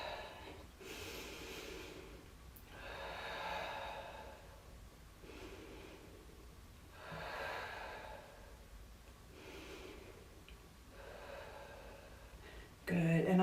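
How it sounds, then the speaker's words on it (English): Slow, deep breaths during a chair yoga class, about four long audible inhale-exhale cycles close to the microphone, evenly spaced, ending with a brief louder sound. "Let's take about 4 deep breaths here."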